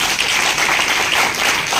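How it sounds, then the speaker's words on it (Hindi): An audience at a summit in Kolkata claps in steady, dense applause that fills the room continuously, with no voices over it. "तो हम चाहेंगे हमारे सभी गुरुओं के लिए एक बार जोरदार तालियां"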